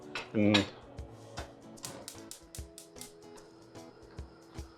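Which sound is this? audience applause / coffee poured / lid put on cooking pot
lid put on cooking pot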